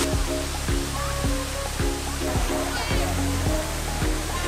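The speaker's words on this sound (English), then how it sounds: "It's almost like it's raining from that waterfall." A roaring waterfall in Guangdong, China, with wind and blowing mist, makes a loud, steady rush of broadband noise, overlaid by a repeating sequence of clear pitched tones.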